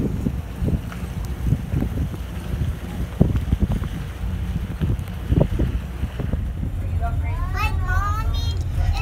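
Tugboat pulling away from a dock in Charleston Harbor, South Carolina, with a steady low engine rumble and wind buffeting the microphone, while a voice talks over it throughout.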